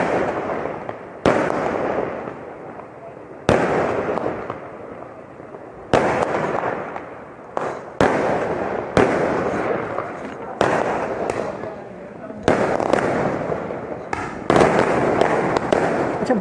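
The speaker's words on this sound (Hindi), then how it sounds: "बाग में 3 मुख्तलिफ मुकामात से इस वक्त ये आतिशबाजी की जा रही है" Fireworks go off at a spring festival in Bagh, a rapid series of loud sharp bursts and crackling booms every second or two, echoing across the area, with someone speaking throughout.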